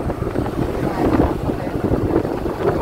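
Strong wind buffets the microphone while crossing the Cổ Chiên bridge on a rainy, gusty day, a motorbike creeping along in low gear. A dense, continuous roar rumbles close and loud throughout.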